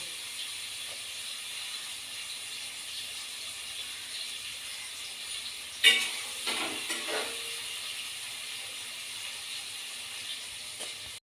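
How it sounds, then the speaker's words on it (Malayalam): Onion and green chilli sautéing in oil in a pan, a soft steady sizzle and hiss with a few louder stirring scrapes midway. "ഉള്ളി പച്ചമുളക് നല്ലോണം വഴറ്റിട്ടുണ്ട്"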